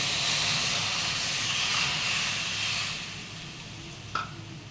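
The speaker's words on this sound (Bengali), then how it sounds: "এখন হলো আমি এই যে এক কাপ দুধ দিয়ে দিলাম" Cold milk hits semolina fried brown in a hot pan, giving a loud steady hiss of steam and sizzle that slowly fades, with a brief clink near the end.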